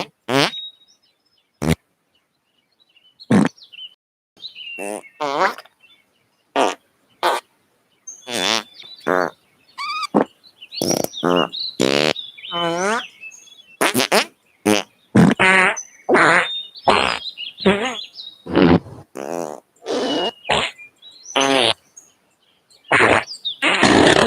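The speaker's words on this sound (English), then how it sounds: "Okay, that was martial farts." A long string of fart sounds played back at home, short, sharp, wet bursts that come in irregular rapid runs with varied pitch and length, loud and close.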